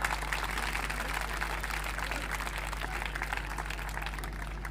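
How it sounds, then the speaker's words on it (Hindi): An audience at a village student honours ceremony applauds Mohit Singh, a steady crowd clapping over a constant electrical hum, moderately loud and unbroken throughout. "मोहित सिंह जी के लिए जोरदार तालियां।"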